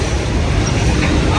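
A train passes nearby in a steady, loud rumble with a faint rattling texture, with no talking over it.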